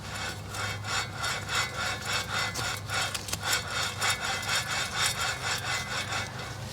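A worn front wheel bearing on a 2002 Dodge Dakota SXT is turned by hand, giving a gritty, rhythmic rasp heard up close. Each pass sounds like rough scraping and repeats steadily, with no talking.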